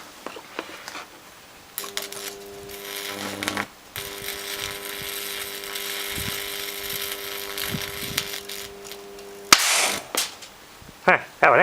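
A steady electrical hum runs through, broken by electrolytic capacitors bursting on a variac in sudden sharp pops and a loud crackling burst near the end.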